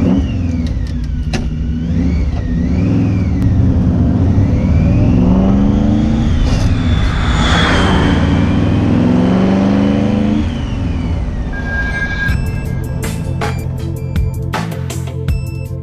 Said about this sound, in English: we mic'd up the car, we got some laps in